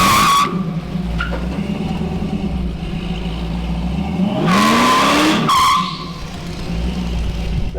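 A supercharged muscle car accelerates hard in first gear, its loud engine roar rising steadily in pitch over several seconds with a brief burst of tire squeal, then dropping back to a steady idle-like rumble.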